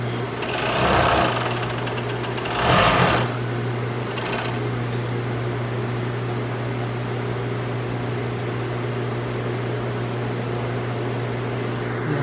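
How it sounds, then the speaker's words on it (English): A serger overlock sewing machine stitching the edges of fray-prone fabric, two short loud bursts of rapid stitching near the start over a constant low electric hum. "And this is a serger sewing machine?"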